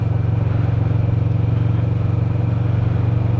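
A motorcycle engine drones at steady speed with a pulsing low rumble, loud and close, likely heard from a Kawasaki Vulcan S on the road as another bike passes.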